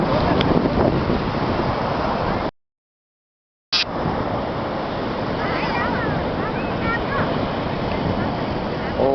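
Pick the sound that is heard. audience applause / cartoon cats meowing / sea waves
sea waves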